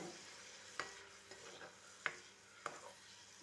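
Grated coconut dry-roasting in a pan with chili powder and coriander powder, heard as faint, sparse spatula scrapes and a few sharp taps over a quiet, low sizzle.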